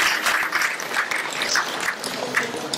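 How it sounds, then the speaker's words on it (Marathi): Audience clapping at a Marathi kirtan devotional gathering, a dense steady patter of many hands sustained throughout, moderately loud and fairly close, with no voices over it. "एकच टाळी झाली"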